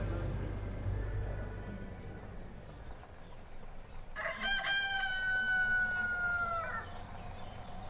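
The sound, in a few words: chickens and rooster crowing along a rural road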